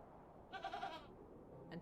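A goat bleats in the Hob's Barrow video game: one wavering, nasal bleat lasting about half a second, followed by a brief faint call near the end, quiet and close over a low background hum.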